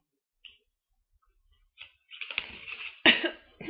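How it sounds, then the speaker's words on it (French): A man recovering from the flu coughs several times, starting with faint isolated sounds and then a burst of louder, rough coughs near the microphone. "je peux tousser un petit peu par moment"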